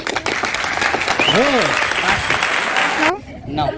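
Children at a gathering clap together in brisk, close applause that stops abruptly, with a few voices calling out over it and an adult voice speaking afterward.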